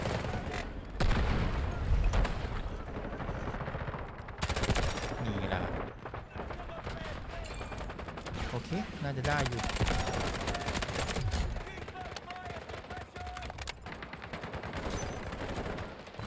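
Bots fire rapid automatic bursts and single shots in the Delta Force shooter game, with dense, overlapping gunfire and booms through most of the stretch and a voice talking over it at times.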